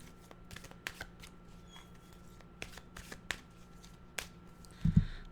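Tarot cards being reshuffled by hand: a run of crisp, separate riffling flicks and soft slaps, close and fairly quiet, ending in a louder thump as the deck is squared, with no speech.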